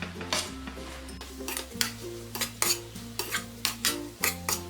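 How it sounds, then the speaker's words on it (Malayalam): Fried paneer stirred in a hot pan on high flame, a soft sizzle under a regular run of sharp scraping and clinking spatula strokes against the metal, close up. "ഈ സമയം നമ്മൾ ഫ്രൈ ചെയ്ത് വെച്ചിരിക്കുന്ന പനീർ ഇതിലേക്കിട്ട് ഇളക്കി കൊടുക്കാം"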